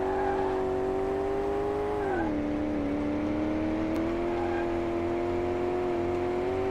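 A car in Car Mechanic Simulator 2018 drives along with a steady engine drone that dips in pitch as it shifts, then holds at a constant hum, loud and close, with no talking.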